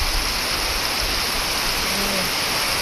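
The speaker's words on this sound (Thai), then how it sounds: "ตกทั้งวันทั้งคืนเลยค่ะทุกคน" Heavy storm rain in rural Laos, pouring steadily as a dense, even hiss with a low rumble and no break or rise in loudness.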